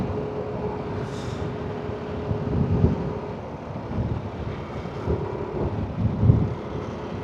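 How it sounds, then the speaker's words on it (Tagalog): Strong gusty wind buffets the microphone during a Honda ADV 160 scooter ride in rain, in low rumbling surges, rising and falling over several seconds with no voices. "Lakas ng hangin."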